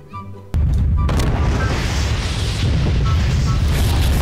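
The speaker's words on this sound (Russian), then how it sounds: "Вот это мега взрыв." In Garry's Mod, a sudden loud bomb explosion bursts in, then a sustained rumbling roar of blasts fills the rest, with faint voices underneath.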